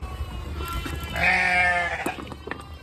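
Dairy sheep on a homestead bleating as they come out of their pen, one prominent drawn-out bleat near the middle among fainter animal calls and shuffling.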